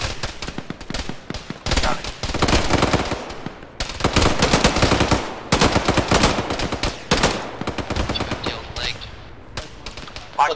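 Heavy gunfire in the military sim Arma during a ShackTac operation in a valley: loud, dense bursts of automatic fire and rapid single shots keep coming for the whole stretch, with a voice faintly underneath.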